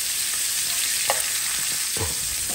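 Fish fries in a pan with a bright, close hiss, with a few quick scrapes and taps as it is turned over in the hot oil.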